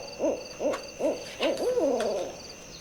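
An owl hoots several times in a steady rhythm, clear and fairly close, the final call stretching into a wavering trill.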